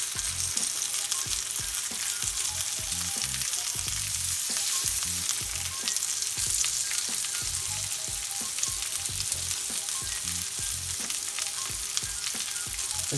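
Garlic herb lamb chops sizzle in a hot pan with a constant crackling hiss, broken by repeated low thumps and spatters from the meat. The sound stays close and steady throughout, with no one speaking.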